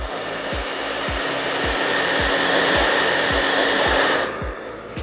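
Blow dryer running on high heat while drying hair, a loud steady close-up whooshing roar with a rhythmic low pulsing throughout, easing off slightly near the end, no voices.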